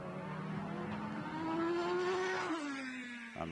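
A Formula BOSS race car at an Irish circuit roars past with its engine note climbing and then dropping away as it goes by, a loud, close, continuous whine with no speech.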